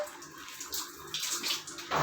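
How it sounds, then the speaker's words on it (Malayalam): Water pours into a fish tank during cleaning, a soft splashing and gurgling stream with small surges, quiet and heard alone. "ഇതിൻ്റെ അകത്ത് ഇനി വെള്ളം നിറയ്ക്കുക."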